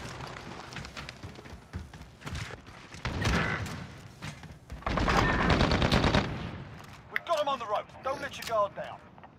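Gunfire in a search-and-destroy round of a video game, with rapid bursts of machine-gun fire and loud volleys that swell in the middle, mixed with talking players.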